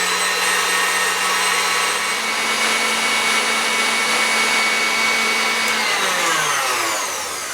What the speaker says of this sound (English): the mixer's been going for about 5 minutes